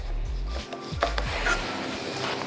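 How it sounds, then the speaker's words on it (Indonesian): A knife slices curly red chilies in half on a wooden board, giving a few close, dry cutting and scraping strokes with soft board knocks, alone without voices. "Lalu untuk cabai keritingnya ini aku belah 2 aja."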